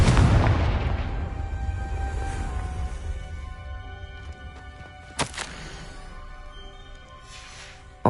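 A Confringo spell explosion in Hogwarts Legacy opens with a loud, deep boom that decays into a long rumbling tail, followed by a couple of sharp crackling bursts partway through.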